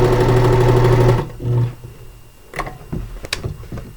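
A serger stitches elastic casing onto a cloth diaper in a fast, loud mechanical whir that stops after about a second, then starts again in a short burst, followed by quieter handling noises.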